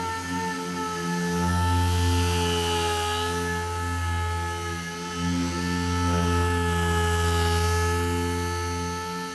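Orbital DA sander working over a painted car hood on a Mk4 GTI, a steady droning whir with a strong low hum and whining tones that holds loud and continuous throughout, swelling slightly at times.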